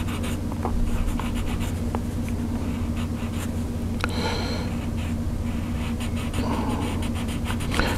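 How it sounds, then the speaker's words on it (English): Colored pencil rubbing across textured drawing paper makes a steady, close scratchy hiss that runs continuously without pause, with a faint low hum underneath. "you really notice it when you're using colored pencils"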